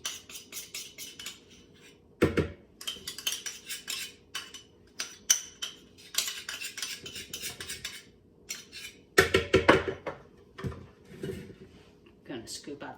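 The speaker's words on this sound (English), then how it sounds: "Gonna scoop out the flesh of the avocados" A spoon scrapes and scoops soft avocado flesh in a kitchen, giving irregular clinks and scrapes of metal against the fruit and a bowl, with a few louder knocks in between.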